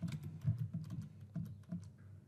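Quick, light clicking of keys as a message is typed on a computer keyboard, an irregular close patter of taps with no talking.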